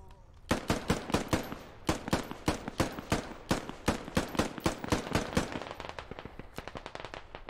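Rapid bursts of automatic gunfire in the military shooter game Squad, loud and close, with dense irregular volleys of sharp cracks running almost continuously for several seconds before thinning into lighter, quicker shots.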